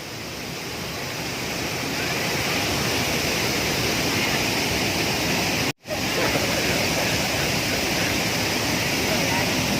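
A remote mountain waterfall roars in a steady, dense broadband rush, close and constant throughout, with one momentary dropout partway.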